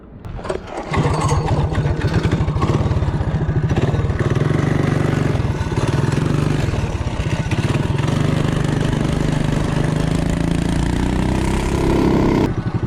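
A Coleman CT200U-EX minibike fitted with a torque converter accelerates hard from a standstill to 30, its small engine roaring loud and close without a break, the pitch climbing steadily toward the end.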